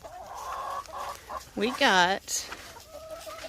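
Chickens in a farm chicken run give a couple of loud drawn-out squawks and clucks close by, with softer clucking around them and a brief bit of talk at the start.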